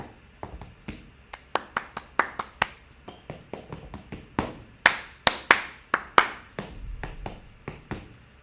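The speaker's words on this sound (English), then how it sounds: "And then they start clapping and the class is supposed to respond." Crisp hand claps in a deliberate rhythmic pattern, groups of sharp claps separated by short pauses, fairly close and clear against a quiet room with no talking.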